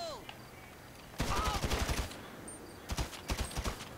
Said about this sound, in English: I shot him right in the head first